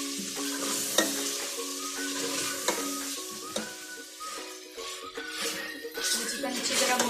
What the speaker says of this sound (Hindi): अब हम इसमें चिकन डाल के इसको अच्छी तरह भून लेंगे